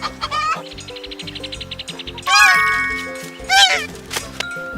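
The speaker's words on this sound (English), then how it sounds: "Hen." A hen clucks in short bursts amid light musical chimes and tones, the clucks fairly close and loud, repeated a few times.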